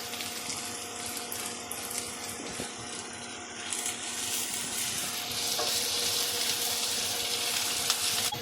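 Onions sautéing in a pan while squid gravy is being prepared, a continuous hiss of frying that grows a little louder partway through, with a few faint clinks of stirring.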